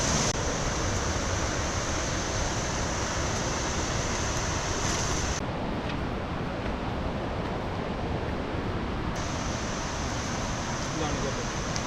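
Meenmutti waterfall at Neyyar, Kerala, a dense, continuous roar of rushing water, loud and close throughout, with a faint high tone coming and going.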